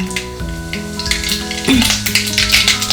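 Mustard seeds and cumin crackle and sizzle in a small amount of hot oil for an Indian home-cooked vang batata rassa bhaji, a close, steady frying hiss with scattered popping taps and a faint utensil stir.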